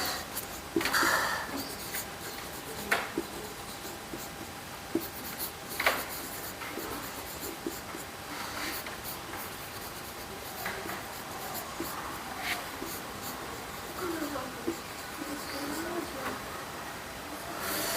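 A pen writing on paper in a quiet room, with soft, continuous scratching and light strokes at close range, broken by a few small taps, no talk.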